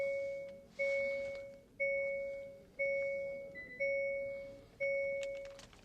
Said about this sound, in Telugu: ఫస్ట్ మనం దీని యొక్క ఇగ్నిషన్ అయితే ఆన్ చేద్దాం